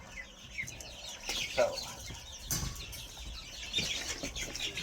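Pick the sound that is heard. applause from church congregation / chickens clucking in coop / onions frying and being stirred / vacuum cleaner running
chickens clucking in coop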